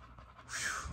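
An American Bully dog in labor, panting rapidly and hoarsely close by, a short burst of quick breaths lasting about a second with no voices over it.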